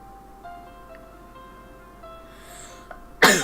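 A single sharp, loud sneeze bursts out at the very end after a quiet stretch with only faint background hum and small sounds.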